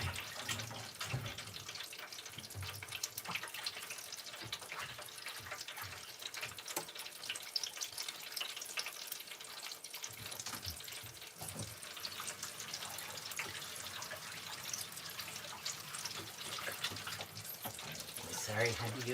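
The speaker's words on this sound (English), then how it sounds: "Let me wash my hands and I'll show you." Hands washed under a running kitchen tap after handling food, with a continuous, close splash of flowing water and scrubbing, and a person talking intermittently over it.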